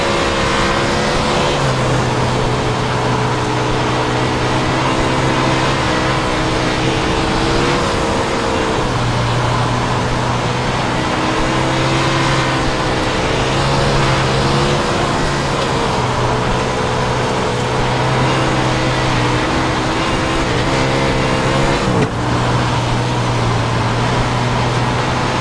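Race car engine in the iRacing sim on a dirt track, droning steadily at high revs with fluctuating pitch as throttle rises and eases, loud and continuous with no talking.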